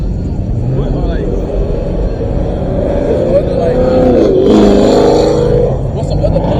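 Car engines rumble and rev at a loud car meet, one rising whine swelling mid-clip over the crowd, with people talking close by throughout.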